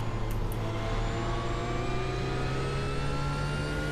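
A GT3 race car engine in the iRacing sim, steady and loud with rising harmonic whine as it accelerates hard, a continuous close drone with no pauses.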